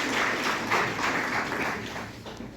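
Audience applause at a literary conference held on a college campus, a steady dense wash of clapping throughout with no voices over it.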